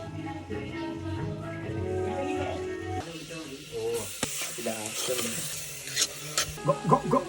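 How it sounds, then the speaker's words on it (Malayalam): Curry leaves dropped into a pan of frying onion for a fish and tapioca meal, with crackling sizzle and stirring scrapes that grow busier toward the end, fairly close and moderately quiet. "അപ്പൊ നമ്മള് ഇതാ കരിവേപ്പില ഇടാൻ പോകുന്നതാണ്"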